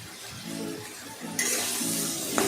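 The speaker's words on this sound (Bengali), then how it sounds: "ভালো করে নেড়ে নিলাম বেগুনটাকে" Eggplant pieces with turmeric being stirred in a frying pan, soft scraping and gentle sizzle, then a brighter hiss of sizzling after about a second and a half, close and fairly quiet.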